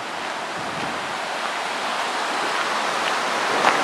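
River water rushing through rapids beside a portage on a Boundary Waters canoe trip, a steady broad roar heard close and loud without breaks, no voices.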